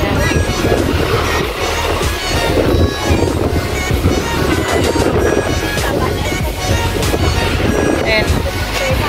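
Strong wind buffets the microphone at a beach at Hoi Ha in Hong Kong, a constant loud roar with surf in the background while people talk.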